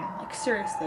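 An emergency vehicle siren wails outside, its rising and falling tones faint and distant under a person's talking.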